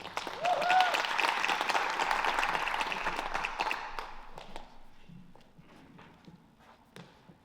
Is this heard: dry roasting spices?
no